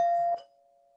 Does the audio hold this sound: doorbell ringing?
yes